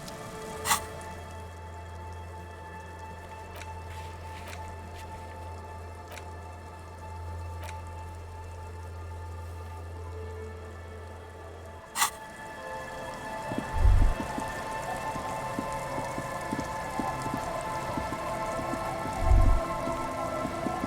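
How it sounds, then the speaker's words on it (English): Steady rain patters continuously in the video game Disco Elysium, with a low hum underneath for the first half, then a denser, closer downpour with a couple of soft thuds. "It's getting late, and it's raining."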